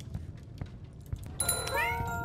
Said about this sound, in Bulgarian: Избяга тази котка гадна.